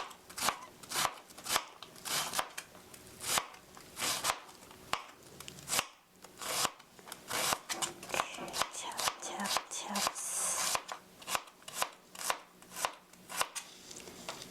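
A knife chops onion on a cutting board in quick, close, regular strokes that run the whole time, pausing briefly now and then, while a person talks over the chopping.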